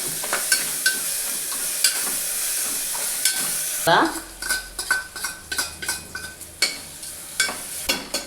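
Masala with ginger and coriander frying in a pan for mutton curry, a loud hissing sizzle followed by a run of rhythmic spoon scrapes and clinks against the pan.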